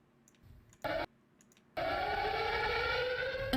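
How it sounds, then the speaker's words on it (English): A tornado siren wails steadily after a brief burst and quiet pause, sounding loud and continuous with a rising tone. "The tornado sirens went off at"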